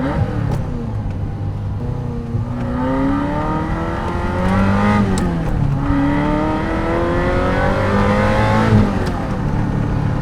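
A Ferrari 348 engine revs and accelerates close by, its pitch climbing and dropping through several sweeps with brief shift dips between them, loud and clear with no voices over it.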